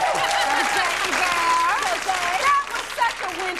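Loud applause and cheering from a studio audience for hairstylist Jose, filling the clip steadily while voices call out and chatter over it, then thinning a little toward the end.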